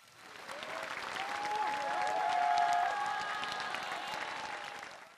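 A large audience at the 88th National Chunhyang Pageant in Korea claps continuously, the applause swelling to a peak midway and then tapering off slightly.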